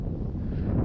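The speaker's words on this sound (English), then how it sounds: "it's just it's way too windy to be flying today" Strong wind buffets the microphone in a continuous low roar at an RC plane flying field, loud and close, with no other sounds standing out.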